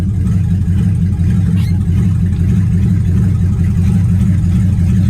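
A barn-find 1959 Edsel Corsair with its engine running at a steady idle, a loud, even low rumble that continues alone with no break.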